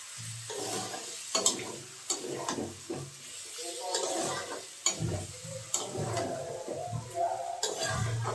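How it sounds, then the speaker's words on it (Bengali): Boiled potato and kohlrabi stir-fried in spices, with steady sizzling and repeated scraping stirs of a spoon against the pan, close and moderately loud. "মশলার মধ্যে আলু ওলকপিটা একটু কিছুক্ষণ ধরে কষিয়ে নেব।"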